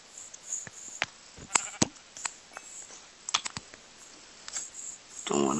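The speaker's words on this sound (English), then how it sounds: "Ooh, a sheep." Sheep bleating in the Minecraft video game, several short separate bleats scattered through the clip at moderate loudness, with a brief burst of other game noise at the end.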